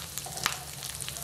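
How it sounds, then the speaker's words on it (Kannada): Oil sizzles with mustard seeds, urad dal, cumin, a dried red chilli and curry leaves for coconut chutney tempering, in a short burst of soft crackles and a few sharp pops close by. "ಈಗ ಒಗ್ಗರಣೆ ಮಾಡ್ಕೊಳ್ಳೋಣ"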